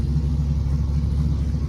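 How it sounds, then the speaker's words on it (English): A big-block engine at a dyno performance shop rumbles steadily nearby, a continuous low, throaty drone with no clear rise or fall in pitch across the short span. "There's a big block over here revving."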